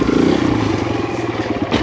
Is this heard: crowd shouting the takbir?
no